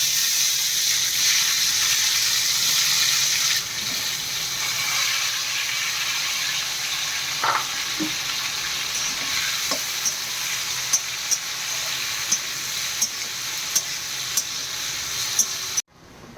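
Tomatoes with ginger fry in hot oil, a loud, steady sizzle and hiss that eases slightly partway through, with a few sharp spatula taps against the pan near the end.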